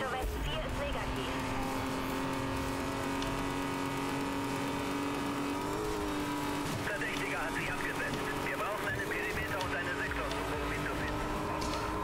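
A Mercedes SL 65 AMG racing at close to 300 km/h in Need for Speed: Most Wanted (2012), its engine a loud, steady high-pitched drone that shifts in pitch mid-run, with someone talking over it.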